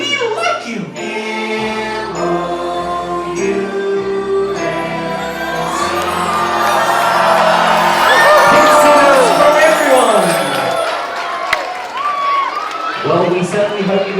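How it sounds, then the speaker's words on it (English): An audience aboard the Disney Magic cruise ship cheers, whoops and shouts loudly and continuously, mixed with singing voices and music, with the crowd noise peaking midway before settling. "keep the applause going"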